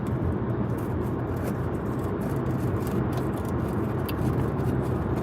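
Steady, continuous road noise from inside a moving car, a broad low rumble of tyres and engine holding evenly throughout with no breaks.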